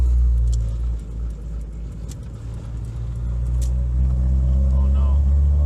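Idling engine of a cheap Honda Civic with a single-cam setup, fuel pump hot-wired to a kill switch, a steady low rumble close by that thickens toward the end, with people talking over it.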